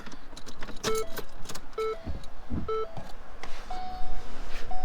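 Repeated electronic door chime dings in a Ford truck after the key is switched on, three evenly spaced tones standing out over idle background noise and faint clicks.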